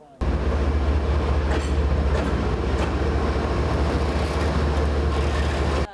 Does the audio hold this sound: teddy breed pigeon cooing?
no